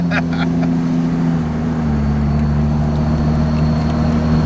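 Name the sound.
Ram 2500 truck driving, transmission upshifting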